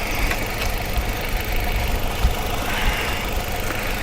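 The engine of a Nissan Altima idles and runs under load with a misfire, giving a steady close rumble with an uneven, faintly knocking pulse and no talking.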